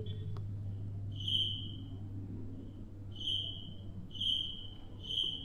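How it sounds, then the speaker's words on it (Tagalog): A cricket calls at night in the Philippines, sending out four loud, high trilling bursts about a second apart over a low steady hum. "Maririnig yung kuliglig."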